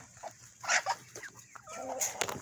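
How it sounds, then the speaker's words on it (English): Backyard chickens clucking near a gate at treat time, a few short scattered clucks and squawks at close range, fairly quiet. "Back up, chickens."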